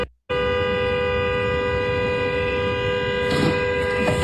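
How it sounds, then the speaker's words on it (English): A vehicle horn blares in one long, steady, loud honk lasting several seconds, with a brief burst of background noise near the end, heard within news footage of a shooting scene. "the honking you're hearing"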